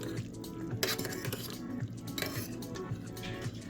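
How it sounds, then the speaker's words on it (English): A utensil scrapes and clinks against a pot while Nongshim Ramyun Wang Kim Tong Kkae instant noodles are stirred, with close, irregular metallic knocks and swishes at a fairly quiet level. "Let's give this a stir."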